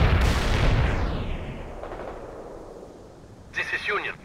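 A heavy artillery blast in World in Conflict booms loudly and close, then rumbles away over several seconds before a brief radio-style voice cuts in.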